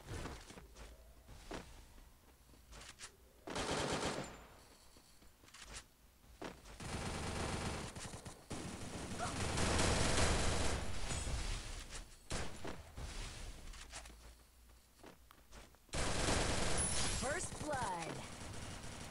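Gunfire in the video game Free Fire, with bursts of rapid automatic shots and loud volleys repeating through the clip alongside footsteps and other game sounds.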